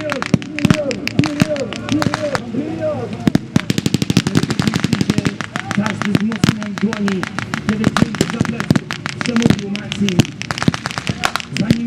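Rapid bursts of rifle and machine-gun fire crack out during a historical battle reenactment at Tomaszów Lubelski, loud and near, with scattered shouting voices and a commentator talking over the shots.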